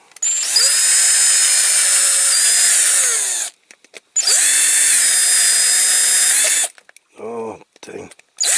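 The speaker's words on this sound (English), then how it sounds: "I'm better using a bigger drill and going from the other side" A power drill bores into a Corgi Qualitoys turbine toy truck from the far side, with two long, steady whining runs separated by a short pause and then a few brief, clattering bursts at the end.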